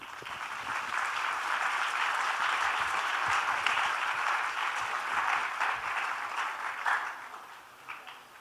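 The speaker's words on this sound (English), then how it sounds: "Let's give him also a love-filled, devotion-filled, and gratitude-filled round of applause." An audience at an international yoga festival broadcast applauds in a sustained, dense round of clapping that holds steady for several seconds before tapering off near the end.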